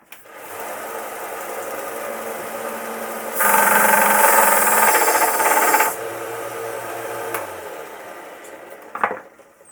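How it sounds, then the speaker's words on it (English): A power tool sands wooden toy lawn mower pieces, with a steady mechanical whir that jumps to a louder, brighter grinding for a couple of seconds before settling back, ending with a short clatter. "now I just have to sand them and put them together"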